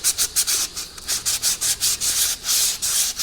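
Close, steady sanding of corrosion off a Galant brake caliper edge with 600 grit sandpaper, quick back-and-forth strokes in a fast, even rhythm throughout.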